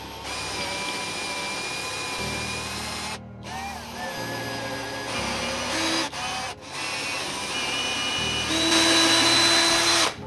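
A power drill whirs steadily in several bursts, drilling holes in wood, pausing briefly between runs, close by and loud with no talking.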